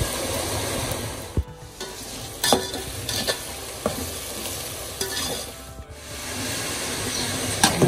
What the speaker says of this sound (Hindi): अब इसे जाएगा कड़ी पत्ता। प्याज के साथ में? प्याज के साथ में ही हमको डालना है, खुशबू के लिए।